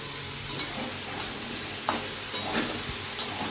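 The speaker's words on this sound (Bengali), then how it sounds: "চাল কুমড়োগুলো ভেজে উঠিয়ে দিলাম এইভাবে" Pieces of ash gourd fry in a pan over a medium flame, giving a continuous close sizzle with a few light clicks of stirring.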